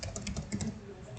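Typing on a computer keyboard, a quick, even run of soft key clicks, close but fairly faint, with no talking over it.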